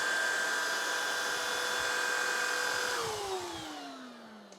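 An Oraimo UltraCleaner S cordless vacuum cleaner running with a loud, steady high whine close by, then the motor pitch sliding downward as it begins to wind down near the end.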